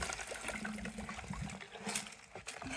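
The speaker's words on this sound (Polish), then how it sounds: "Tu tą wodę możemy spokojnie wylać sobie do miski" Water from a flooded dishwasher splashes and trickles unevenly into a bowl, close and fairly quiet, with no voices.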